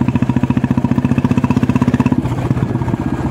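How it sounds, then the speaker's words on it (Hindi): A Royal Enfield Bullet motorcycle fitted with a new aftermarket silencer idles close by, its exhaust thumping in a steady, rapid beat that loosens slightly near the end. "भाई साइलेंसर साउंड एते सुंदर हम बोली मु आशा नथिली"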